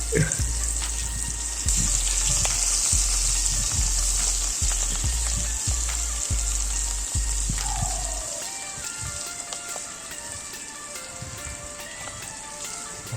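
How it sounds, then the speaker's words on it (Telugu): Pieces of fish sizzle steadily in hot oil in a pan, a loud continuous frying hiss with crackling pops and occasional clinks of utensils, easing off somewhat in the second half. "ఒక్కొక్క పీసుగా కంచుట్లో వేసి వేంపుకోవాలి"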